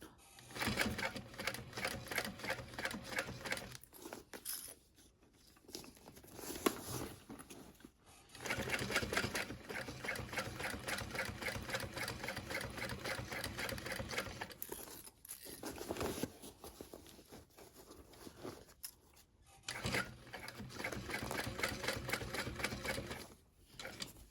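A sewing machine stitching a wide handmade backpack runs in several fast, steady bursts of rapid needle clatter separated by short pauses, fairly close and clear.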